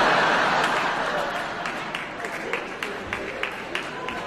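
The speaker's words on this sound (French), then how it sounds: "il n'y a qu'une seule personne qui applaudit" A lone person clapping on a French TV show, a dense wash of sweetened applause fading while a few distinct, sharp single claps ring out at a regular pace near the end.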